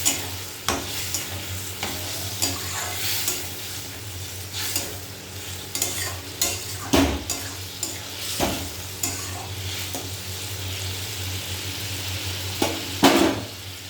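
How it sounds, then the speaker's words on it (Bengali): Spice paste with a splash of water being sautéed and stirred in a pan, a steady close sizzle throughout with repeated scraping and knocking of the spatula against the pan. "দিয়ে মশলাটা কষিয়ে নেব।"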